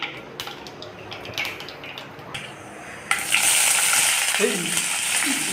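Dried red chilies and mustard seeds fry in hot oil while cooking tomato rice in a home kitchen, a light crackle that suddenly swells into loud, steady sizzling and spattering up close.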